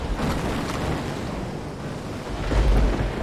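A ship blowing apart in a naval battle in the Victory At Sea game: a sustained low rumbling roar that swells again near the end, with no talk over it.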